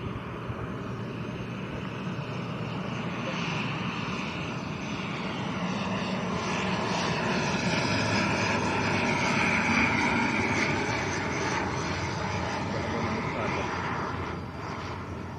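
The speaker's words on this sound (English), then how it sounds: "the aircraft behind this one is Aer Lingus, an A320neo." Aer Lingus Airbus A320neo engines at Lanzarote Airport, a steady broad roar that swells slightly in the middle and eases toward the end, heard from a moderate distance with no speech.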